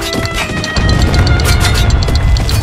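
Mortar fire in a war video game, a heavy rumbling boom that swells and keeps rolling under dense, loud battlefield noise.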